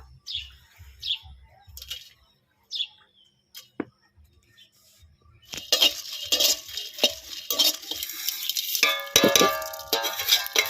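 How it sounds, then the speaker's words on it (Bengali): Coriander, pepper, cumin and dried chillies dry-roasting in an oil-free pan, with dry scraping and rattling of stirring starting partway through, after a quiet opening where birds chirp in the background. "মশলাগুলো আমি শুকনো খোলায় ভেজে নেব"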